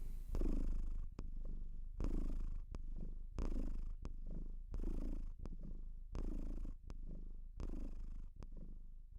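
A cat purring close up, a steady rhythmic rumble of alternating inhale and exhale pulses repeating about every second, soft but continuous with no other sounds.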